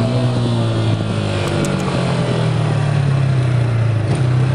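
A 2024 Yamaha R15 sport motorcycle, not yet broken in, holds a loud, steady high-revving engine drone close to the listener, with a slight rise in pitch and no talking.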